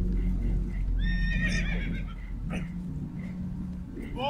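Spooked horses whinny and neigh in a storm-tossed boat scene from Red Dead Redemption 2, with several rising, bright calls over a steady low rumble of water and engine noise, and a short burst of voices.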